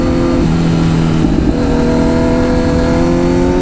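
A Kawasaki Z900 motorcycle accelerates hard on a race track, its loud, close engine holding a steady high drone with a brief shift in pitch early on, with no talk.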